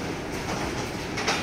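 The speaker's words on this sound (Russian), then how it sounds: "Вот такой вот приехал, значит, поезд." A car-carrying train rolls in at a German North Sea rail terminal, with a steady rumble of wagons and faint rail clatter and a brief squeal near the end, and no voices.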